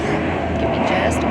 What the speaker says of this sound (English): birds, planes, as the one going overhead now.